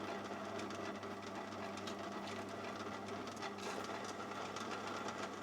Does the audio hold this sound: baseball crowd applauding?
no